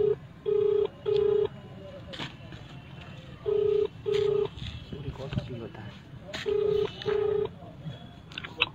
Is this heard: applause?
no